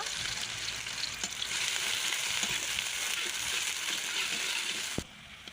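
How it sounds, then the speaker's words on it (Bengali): Onions sizzle and crackle steadily in hot soybean oil in a pan, a loud continuous frying hiss with faint stirring clicks, cutting out suddenly near the end. "সোয়াবিন তেল এখন দিয়ে দেবো এই যে পেঁয়াজ পেঁয়াজটা বেশি করে ভেজে নেব"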